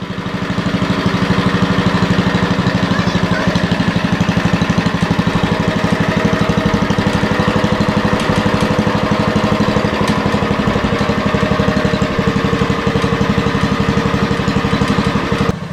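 A roughly 40-year-old Lincoln Weldanpower 150 welder's engine runs at a steady idle, a loud, close, evenly thumping small-engine drone that holds constant throughout.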